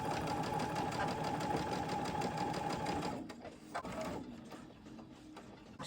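A sewing machine stitches quilt pieces with a rapid, even mechanical whir and tapping for about three seconds, then stops, leaving a few soft handling clicks and rustles.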